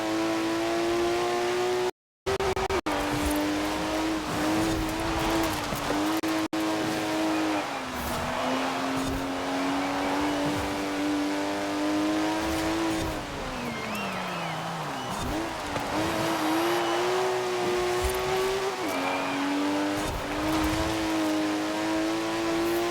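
A TVR Tuscan S racing in the Forza video game, its engine droning loud and steady as the pitch rises and falls with gear changes and revs, with tyre noise, a brief cut near the start, no talking.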